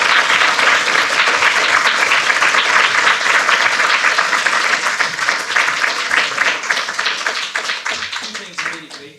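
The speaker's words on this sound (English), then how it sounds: "please give one final round of applause." An audience at a debate talk breaks into sustained applause, with dense, loud clapping that slowly thins and fades toward the end. No voices are heard over it.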